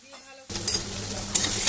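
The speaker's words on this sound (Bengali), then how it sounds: "দিয়ে এবার ভালো করে আবার কষিয়ে নেব।" Egg curry sautéed with tomato sauce in a pan sizzles steadily after a quiet start, with a spoon scraping and stirring through it in short strokes.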